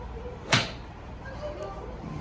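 A single sharp crack of a golf club striking a ball, brief and crisp, followed by quiet outdoor ambience.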